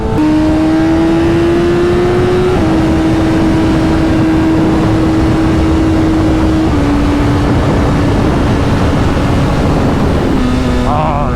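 Sport motorcycle with a quick shifter accelerating on the road, a loud, steady engine drone that steps through several rapid gear changes, buried in heavy wind rush.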